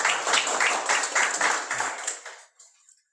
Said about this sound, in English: So please give Jihoon a big round of applause